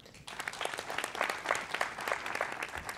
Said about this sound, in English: All right, let's give him a round of applause.